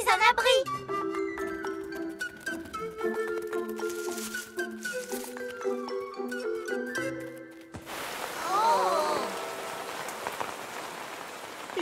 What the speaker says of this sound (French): Oh, on dirait qu'il va bientôt pleuvoir.